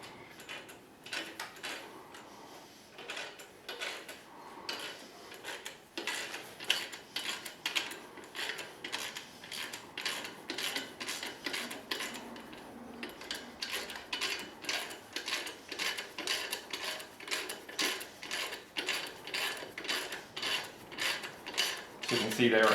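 Repeated scraping, ratcheting tightening of a chimney aerial bracket lashing kit, a steady run of close mechanical rasps and clicks with no talk.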